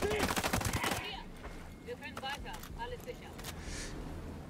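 Gunfire in the tactical shooter game Ghost Recon Breakpoint: a rapid burst of sharp, loud shots at the start, followed by fainter clatter and game sounds with someone talking over them.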